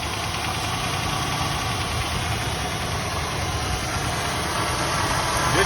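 A 1969 Buick Skylark barn find, off the road for 36 years, idles steadily at close range, its running engine carrying a faint, even mechanical clatter throughout with no one speaking.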